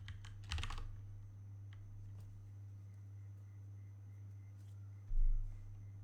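A few scattered keystrokes click on a computer keyboard, with a brief quick burst near the start, quiet and close over a steady low electrical hum, while code is typed for a ray tracer written in Rust.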